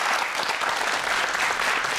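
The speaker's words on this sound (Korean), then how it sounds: "큰 박수 부탁드립니다." A lecture audience at a youth startup talk show bursts into full, sustained applause, thick and even from start to finish with no talking.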